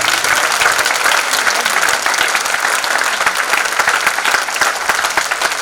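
An audience at a live ghazal, kathak and narration show in Lucknow applauds loudly and steadily, dense clapping filling the hall without a break.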